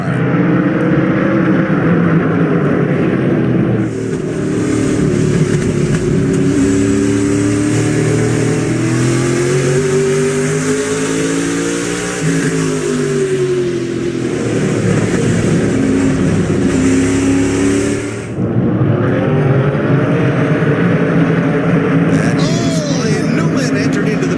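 Race cars roar around the Stafford oval after the green flag with engines revving and passing loudly in waves, under continuous commentary.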